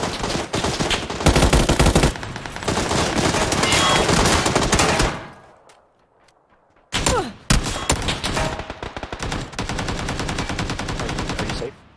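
Rapid bursts of AK rifle fire in the shooter game PUBG, loud and dense for about five seconds, then a pause of near silence before further heavy volleys resume and continue to the end.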